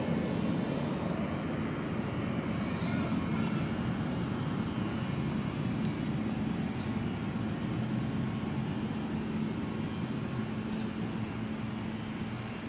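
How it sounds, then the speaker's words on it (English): An airplane passes over a town square in the early morning, heard as a steady, continuous engine drone that stays at an even level throughout, with no talking. "Plane activity over the town square"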